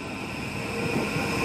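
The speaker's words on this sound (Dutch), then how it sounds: "Eindelijk weer een trein naar Romond." A train at Sittard railway station in the Netherlands gives a steady, continuous rumble with a faint high tonal hum, close and evenly loud throughout, no voices.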